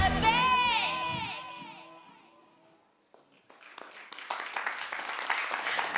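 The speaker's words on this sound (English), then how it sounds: "That applause is for you." An audience applauds performer Lizzie at a conference opening ceremony, with sustained clapping rising in the second half after a fading musical sound.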